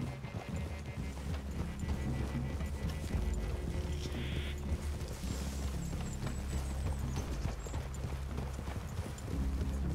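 Horses' hooves clip-clop in an uneven walking rhythm over a low, steady rumble, with faint clinks and a brief tonal chime, in Red Dead Redemption 2.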